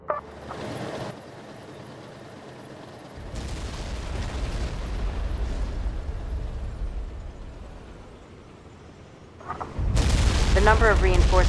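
Gunfire and explosions in a Tom Clancy's EndWar battle, rumbling booms and crackling fire that swell mid-clip, ease off, then surge loudly at the end, with a voice talking over parts of it.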